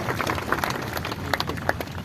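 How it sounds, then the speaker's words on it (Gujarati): A crowd at a Bhagavat Katha religious gathering in Deesa applauds, with a steady patter of many hands clapping throughout and a few sharper claps standing out near the end. "એની સેવાને પણ તાળીઓથી વધાવી દે"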